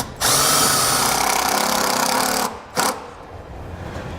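A power drill runs a self-tapping screw into the metal body of a 2005 Jeep, giving one loud, steady whine for over two seconds, then a short stop and a brief second burst, with no talking.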